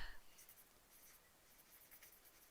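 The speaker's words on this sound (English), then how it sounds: "I gotta actually write it down" A pen scratches out a short reminder on a sticky note at a sewing and embroidery table, with faint, close, light strokes in quick bursts.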